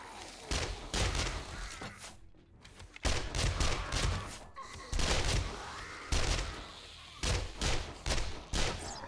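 Bursts of gunfire ring out in the survival game 7 Days to Die while players fight a zombie. Repeated loud volleys of shots come in clusters with short pauses between them, moderately close.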